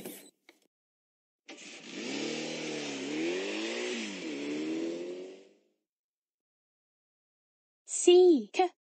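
Cartoon car engine sound from a children's mobile learning game, a few seconds of mid-pitched revving that rises and falls in waves, set between stretches of silence, with a voice briefly at the end.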